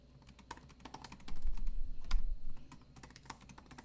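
Typing on a 2016 MacBook Pro keyboard, a steady run of close, soft clicking keystrokes with uneven rhythm and a few sharper taps, heard alone without talk.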